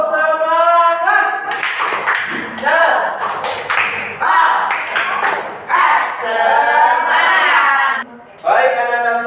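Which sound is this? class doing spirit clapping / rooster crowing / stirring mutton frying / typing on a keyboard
class doing spirit clapping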